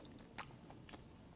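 A single sharp crunchy bite into a Korean twisted doughnut (kkwabaegi), followed by a softer second crunch and quiet chewing, close up.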